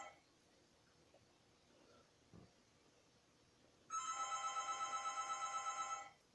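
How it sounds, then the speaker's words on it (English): A phone rings in a quiet room, one burst of repeated electronic trilling pulses lasting about two seconds, loud and close after near silence. "That's my phone."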